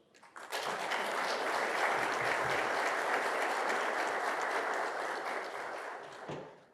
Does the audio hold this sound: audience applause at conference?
yes